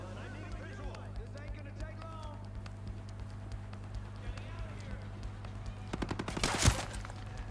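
P320 pistol shots in Ghost Recon Breakpoint, a quick volley of sharp cracks near the end after a quieter stretch of ambient hum, with someone talking throughout.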